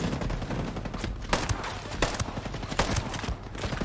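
Unsuppressed P320 pistol fire in the shooter game Ghost Recon Breakpoint, with sharp shots cracking in rapid succession over a dense, busy background of gunfire.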